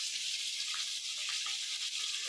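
Steady, hissing sizzle of food frying in hot oil, continuous and fairly quiet, with no voices.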